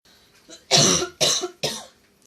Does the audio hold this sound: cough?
yes